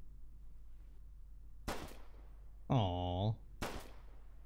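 Two sharp, separate gunshots ring out in the Flashing Lights police game, about two seconds apart, over a quiet background. A short vocal exclamation falls between them.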